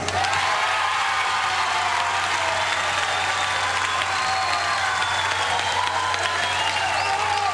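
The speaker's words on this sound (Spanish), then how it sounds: "Ahora un aplauso para la familia Vera Pastor" Steady, dense applause from a large studio audience on a Peruvian family contest show, honoring the winning Vera Pastor family, sustained and loud throughout with no talk over it.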